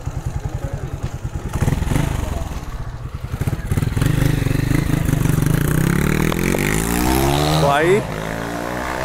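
A motorcycle ridden at high speed, its engine droning loud and steady with revving that rises and then pulls away near the end, while people talk over it.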